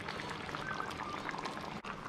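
Water poured steadily into a pot of lamb shanks and pumpkin curry, a continuous splashing, gurgling rush close by that runs nearly unbroken before a brief pause near the end.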